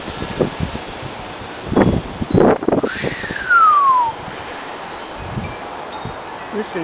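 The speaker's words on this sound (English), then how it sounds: "Look at how windy it is." Gusty outdoor wind rushes through foliage with rustling leaves, several louder surges in the middle and a faint rising-then-falling whistle, steady background roar throughout.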